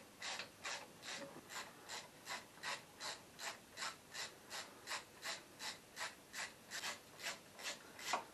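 Steady ratchet wrench clicking in a quick, even rhythm of about twenty strokes, close and fairly faint, while removing the engine block cover on a Pontiac Fiero GT Turbo 3800 during an engine teardown.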